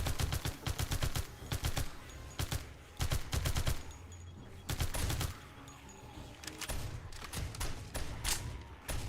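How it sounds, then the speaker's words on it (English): Shotguns firing in a tower defense video game, a dense run of loud blasts in rapid bursts with short pauses between volleys, continuing throughout. "the shotguns are going to town"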